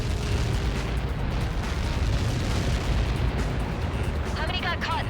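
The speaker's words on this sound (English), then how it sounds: "How many got caught in that explosion?" Rumbling, sustained blast noise follows a massive Helios projectile impact in the flight combat game Ace Combat 7, dense and loud throughout, with crackling debris and faint radio chatter toward the end.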